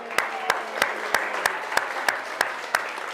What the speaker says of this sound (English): give yourselves a nice big clap